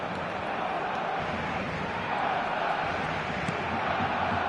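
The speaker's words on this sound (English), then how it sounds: "the crowd have tried to spark some excitement, but to no avail" Steady, dense stadium crowd roar from an eFootball video game match, a continuous murmur of many voices holding at an even, moderately loud level throughout without distinct cheers.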